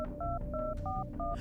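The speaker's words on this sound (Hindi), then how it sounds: "उसने अपना फोन निकाला और सीधा देवेन को फोन मिला दिया" A rapid run of six telephone keypad tones as a number is dialed, each beep short and clean, evenly spaced over a low background hum.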